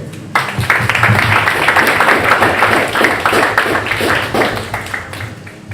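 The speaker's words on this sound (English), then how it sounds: "Round of applause for Dylan." A debate audience bursts into sustained applause, a dense, loud wash of clapping that starts abruptly and gradually tapers near the end.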